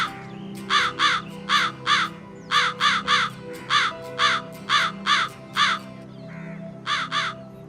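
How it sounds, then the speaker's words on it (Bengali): A crow in a Bangla fairy-tale scene caws in a harsh, off-key voice, giving repeated short double and triple calls in a steady rhythm, loud and close, over a low background hum. "কাকটা নিজের পায়ে রুটিটা চেপে ধরে বেসুরা আওয়াজে গাইতে"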